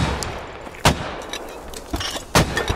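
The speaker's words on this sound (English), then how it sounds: "Mortars out in the west." Mortars fire in the game Squad, giving a few sharp, separated booms over a hissing battlefield background, with no talk.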